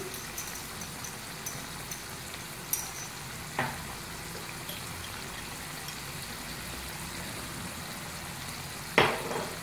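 Mutton karahi is stirred and fried over a high flame, giving a soft, continuous sizzle with faint scraping and a few sharp clinks of the spoon against the pan.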